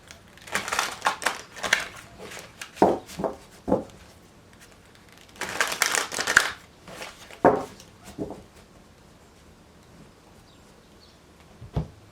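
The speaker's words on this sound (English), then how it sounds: "we're going to do 2 more shuffles here" Crisp riffling and slapping of tarot cards being shuffled in several quick bursts, with quiet pauses between, close up.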